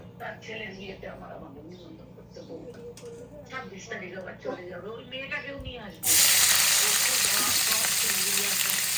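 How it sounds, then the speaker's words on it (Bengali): Soybean chunks frying in a little oil with turmeric and salt give a loud, steady broadband sizzle that starts suddenly and continues, after a stretch of talking. "এটার মধ্যে আমি এখন সয়াবিনটা হলুদ আর লবণ দিয়ে ভাজবো"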